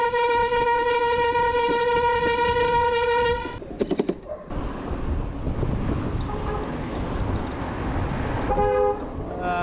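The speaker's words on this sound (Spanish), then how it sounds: "No, la bocina esa infumable." A vehicle horn blares in a long, loud, steady honk in street traffic, then breaks off into road noise, with a few short bursts and another brief honk near the end, as people talk in Spanish.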